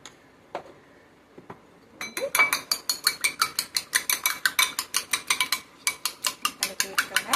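Eggs whisked in a bowl for egg podimas with pepper added, a fast run of regular clinking strokes from a utensil against the bowl, close and clear, following a few isolated knocks.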